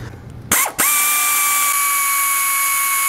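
A noisy air ratchet whirs up to speed while working on a 2005 EZGO TXT gas golf cart, with a brief burst, a short pause, then a loud, sustained high whine that holds steady.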